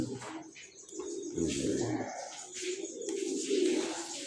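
Several pigeons coo in a steady low murmur, with soft chirps and a brief flutter of wings, close by and continuous without speech.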